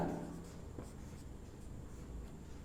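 Marker or chalk scratching across a board during a chemistry lesson on first order reactions, a faint, steady stroke-by-stroke writing sound with no talking over it.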